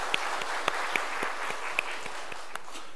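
A church congregation applauding at a New Year special dawn prayer service, a steady dense wash of clapping from many hands throughout, with a few sharper individual claps standing out.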